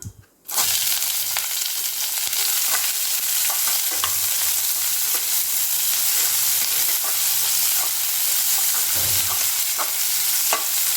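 Onions sliding into hot oil with popped fennel seeds for a vegetarian curry kulambu sizzle loudly and continuously after an initial clatter, with occasional spoon scrapes and stirs, close and without speech.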